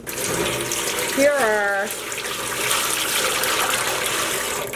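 Water poured into a dye pot prepared with vinegar for speckled yarn, a brief gushing splash close by alongside a short spoken phrase.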